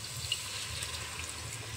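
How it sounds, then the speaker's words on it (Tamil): Tamarind water is poured into a pot of dried-fish curry, a quiet, steady trickling splash that runs on without pause and with no speech. "புளி தண்ணி கொஞ்சம் ஊற்றிக்கிறேன்"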